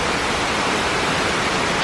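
Powerful mountain waterfall at Munduk, Bali, a dense, continuous roar of falling water heard close and loud, steady with no pauses and no voices.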